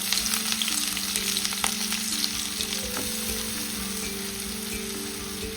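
Onion sizzles and fries in oil in a kadai with two bay leaves and garam masala, a steady close crackling hiss with a few faint stirring clicks throughout, no voices.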